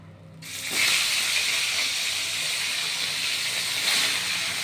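Continuous loud hissing and crackling of small rohu-type fish frying in hot oil, steady throughout with no talking.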